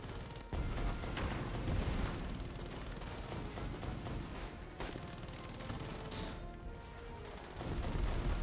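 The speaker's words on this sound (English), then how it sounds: "We got a lot of shooting here." Dense gunfire in The Patriotic War video game, a sustained fusillade of rifle and machine-gun shots crackling near and far without pause for over eight seconds, with no voices over it.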